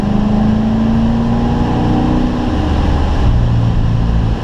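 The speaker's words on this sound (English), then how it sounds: "Squeezing in that throttle on the exit." A Corvette engine droning loudly and steadily as the car accelerates out of a corner on the Spring Mountain track, with a sustained low tone that climbs slightly in pitch and then settles.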